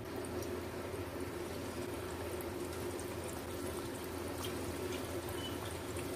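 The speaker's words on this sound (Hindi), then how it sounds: "इसमें अब हम अपनी ये सभी फ्राई कर देंगे।" Potato coins fry in hot cooking oil in a kadai, giving a continuous even hiss and bubbling, steady and fairly quiet throughout.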